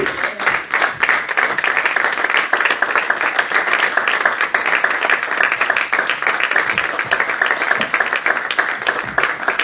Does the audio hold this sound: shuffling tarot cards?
no